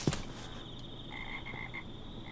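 Frogs croak in Minecraft, a short run of soft, repeated croaks at moderate distance over a faint ambient hum, with no talking.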